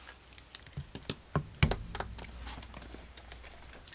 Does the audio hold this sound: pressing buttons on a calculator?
yes